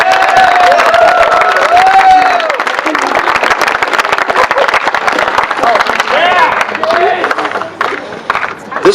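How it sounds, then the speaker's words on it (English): A crowd at a school time capsule dedication claps and cheers loudly, with whoops and voices mixed into the dense applause, which thins slightly toward the end. "Please give them a deserving round of applause."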